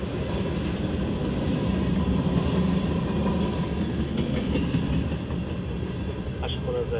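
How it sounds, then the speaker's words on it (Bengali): A long freight train of oil tank cars rolls past in a steady, continuous rumble with faint rail clatter, close and loud throughout with no break. "100টার উপরে এই তেলের ট্রেন।"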